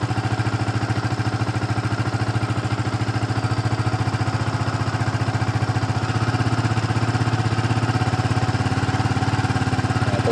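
A Yamaha Vixion motorcycle engine running close up, a steady loud mechanical putter with a rapid even pulse that rises slightly in pace as the throttle is opened a little.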